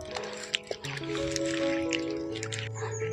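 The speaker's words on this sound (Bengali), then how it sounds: "আলুগুলোকে ভালো করে চুপটে চুপটে ধুয়ে নিচ্ছি" Potatoes are squeezed and rinsed by hand in a bowl of water, giving close, soft sloshes, squishes and drips over a faint tonal background.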